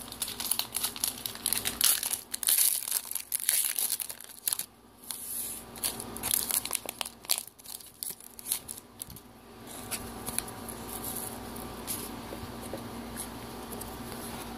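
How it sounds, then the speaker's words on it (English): Topps Fire trading card packs from 2014 are torn open by hand: close, busy crinkling and ripping of foil wrappers with rustling cards, loud at first and then easing into softer shuffling. "I got 3 more Topps Fire Packs. So I'm gonna rip them."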